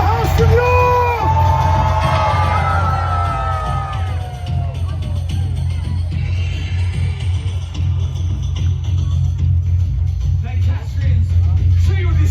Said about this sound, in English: A cheer for the House of York!